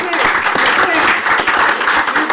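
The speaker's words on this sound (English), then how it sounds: "let's give these guys a big round of applause" Applause from a town hall audience at a joint meeting of county supervisors and school board members, a loud, steady wash of many hands clapping at once with no pause across the stretch, murmurs of the crowd mixed in.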